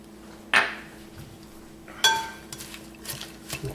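Turkey sausage salad being mixed in a bowl, two sharp utensil clinks against the bowl followed by softer scraping and tossing sounds, close and without speech.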